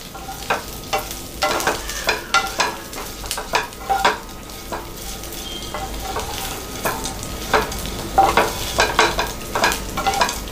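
Uppu kozhukattai dough mixture stirred in a pan, repeated close scraping and clacking strokes in an uneven rhythm over a faint sizzle.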